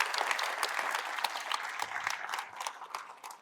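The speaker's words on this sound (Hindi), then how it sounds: "बजा दो ताली यार" Dense, steady clapping from a student audience at a medical entrance exam coaching session, bright and continuous across the whole stretch, slowly tapering near the end.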